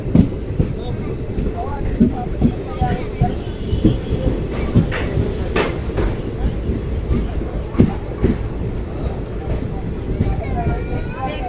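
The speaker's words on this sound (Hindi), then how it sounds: "नौ बज के 20 मिनट पर हमारी ट्रेन का खैरथल में अराइवल हो रहा है" Ranikhet Express rolling into Khairthal station, a steady rumble of wheels with rhythmic clacks over rail joints running continuously, and a brief squeal partway through; voices are heard faintly in the background.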